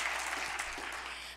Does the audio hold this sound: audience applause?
yes